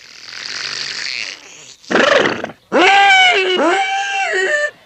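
A cartoon dog lets out a series of loud, close grunting burps and a growling, gurgling belch, in several separate bursts split by short pauses.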